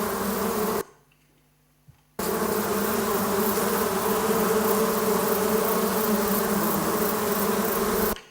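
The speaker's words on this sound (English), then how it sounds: "when insects fly, they produce sound, a buzz sound." Flying pollinating insects buzzing loudly and continuously up close, a dense droning hum cut by a sudden gap of over a second before it resumes.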